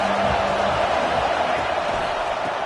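A football stadium crowd roars at a Tennessee versus Alabama college game, a broad continuous wash of cheering from many voices that holds steady at moderate loudness.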